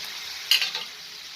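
Potatoes frying in a pan with spring onion greens, given one quick stir: a soft, even sizzle with a brief scrape of the utensil near the middle, no voices.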